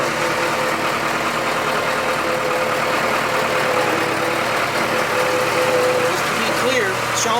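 A Leeboy 685 motor grader's diesel engine rumbles loudly and steadily while the machine backs up, a close, continuous low drone with mechanical knocking, and a voice speaks over it.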